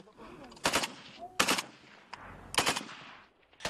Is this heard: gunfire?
yes